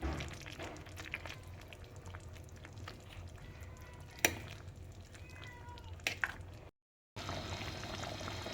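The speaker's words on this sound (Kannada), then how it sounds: "ಇವಾಗ ಈ ಥರ ಕುದೀತಾ ಇರೋವಂಥ ಟೈಮಲ್ಲಿ" Green chilli chicken gravy boiling in a pan, a soft continuous bubbling with small pops and occasional sharper clicks, fairly faint and close, broken by a brief gap near the end.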